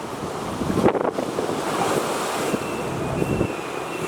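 Ocean surf at Front Beach in Vũng Tàu in the early morning, a loud continuous roar of waves mixed with gusty wind buffeting the microphone, with no speech.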